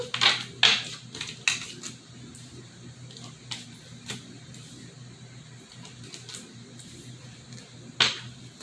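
Quiet, crisp card riffles and snapping flicks come in short bursts, mostly at the start and again near the end, with soft rustling in between.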